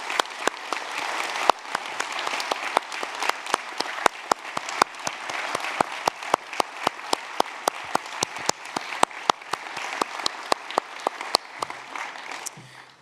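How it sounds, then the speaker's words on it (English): An audience at a University of Newcastle graduation ceremony applauds the graduates in a long, steady burst of clapping, with individual sharp claps standing out from the dense wash. "I wonder if everybody would join me in applauding the wonderful achievement of these graduates"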